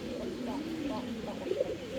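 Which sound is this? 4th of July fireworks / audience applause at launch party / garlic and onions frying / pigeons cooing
pigeons cooing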